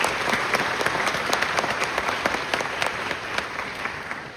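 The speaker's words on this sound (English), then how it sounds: "Let's give them a round of applause." An audience at a scholarship ceremony honoring the 2026 winners claps steadily, with individual claps standing out in a fairly even rhythm at moderate loudness and no voices over it.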